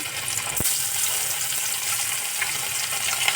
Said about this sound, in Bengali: এখানে আমি একটা একটা করে ভাজবো।